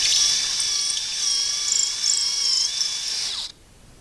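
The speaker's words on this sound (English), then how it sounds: "I'm just going to enlarge these holes just a little bit to allow this to fit more easily" A power drill bores out the holes on a Rockler universal mobile base, giving a steady, close, high-pitched whine for about three and a half seconds before it cuts off abruptly.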